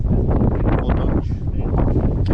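Strong wind buffets the microphone on an exposed rocky hilltop, a steady loud roar with gusty rushing and rustle throughout.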